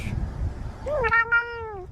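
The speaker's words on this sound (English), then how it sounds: "Those are good meows." A single drawn-out cat meow, clear and close, rising then falling in pitch over about a second, with faint background noise before it.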